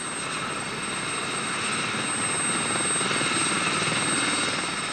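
A steady, droning helicopter engine with a constant rotor thrum that holds at a fairly close, even loudness throughout.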